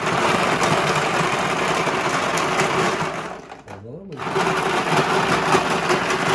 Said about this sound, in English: Margaritaville machine mixes it up pretty good, but I like to make it a little more icy, so I'm going to hit the shave button.